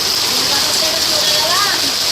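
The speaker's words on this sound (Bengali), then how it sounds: "মুসলধারা বৃষ্টি শুরু হয়ে গেছে" Torrential rain pours down in a loud, dense, continuous wash with no breaks, while a voice speaks faintly underneath.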